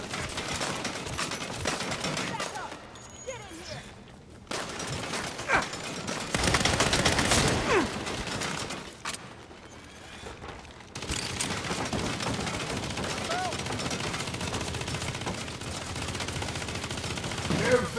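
Dense video game gunfire, sustained machine-gun bursts and volleys that come in waves with brief lulls between them, loud and continuous across the stretch.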